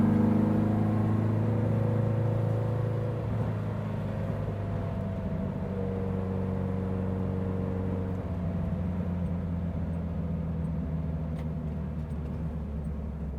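A 1960 Porsche 356 Abarth tribute's engine drones steadily at close range while driving on the road, a low sustained rumble that holds roughly constant for the whole stretch, with no voices.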